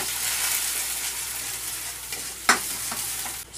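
Garlic sizzles and crackles in hot oil in a frying pan, a steady bright hiss with a sharper spatter near the middle and a short stir toward the end, no voices.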